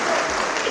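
An audience at a Kavi Sammelan poetry gathering claps in a dense, loud burst of applause, with many hands close together and no pause.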